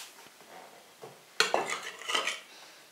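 Metal spoon clinks against a dish while salt is added, a few light taps followed by a louder, busier burst of scraping and clatter from close by.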